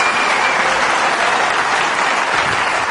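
A snooker crowd at a Ronnie O'Sullivan versus Matthew Stevens match breaks into steady, dense applause, a sustained wash of clapping lasting several seconds.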